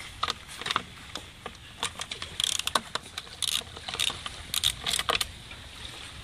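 Ratchet clicking close by as 10 mm nuts are broken free on the carburetor of a Yamaha 20HP four-stroke outboard, with irregular bursts of sharp metallic ticks and light clinks over a low background hiss.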